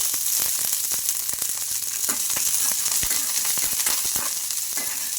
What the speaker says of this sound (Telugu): మిర్చి అయితే కొద్దిగా లైట్గా ఫ్రై అయిపోవాలి మనకు